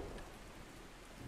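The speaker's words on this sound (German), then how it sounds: "Ah, nee, warte mal, es regnet gerade." Steady rain falls in ARK: Survival Ascended, a dense, even hiss of drops spread across the whole range with no break, moderately quiet and alone without any voices.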